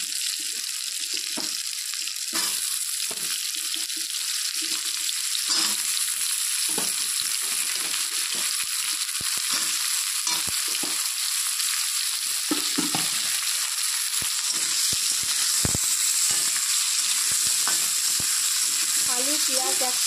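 Potatoes and onions fry together in a pan for a fish curry, a steady bright sizzle running throughout, broken by scraping stirs and occasional clinks of a utensil against the pan.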